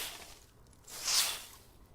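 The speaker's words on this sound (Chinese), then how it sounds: "那么这个是扫地的声音。" A single soft broom sweep brushes across a floor, recorded as an indoor sound effect. It swells into a brief swishing whoosh midway and then fades against faint room noise.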